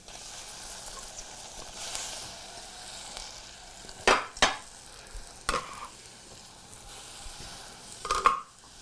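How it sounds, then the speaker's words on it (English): Onions frying in a pan with a steady soft sizzle, then tomato pieces dropping in with several sharp splats and spatters, followed by more scattered hits and a bright burst of sizzling near the end. "And we just want to get our tomato in here."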